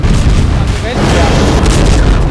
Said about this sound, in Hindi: आसमान से मिसाइल और एयर स्ट्राइक हो रही है